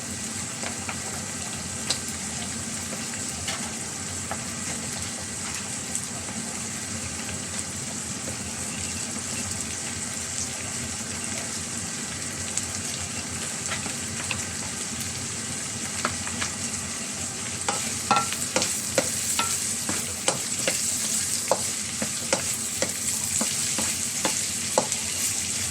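Carrots stir-fry in a pan for Filipino gisadong sutanghon, giving a steady close sizzle with occasional scraping and stirring clatter that grows busier toward the end.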